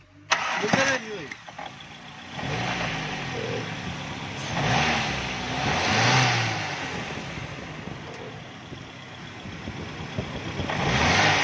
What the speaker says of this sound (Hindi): तो अब हम गाड़ी को स्टार्ट करके चेक करेंगे जी।